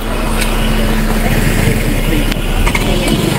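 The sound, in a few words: car engine idling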